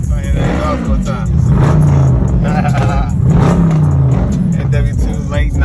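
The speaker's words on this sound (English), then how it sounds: "Yeah, so here it is. I hear that exhaust all the time." A loud car exhaust revs hard on a late-night street cruise, the engine rising and falling in two strong surges with steady low rumble throughout and faint voices nearby.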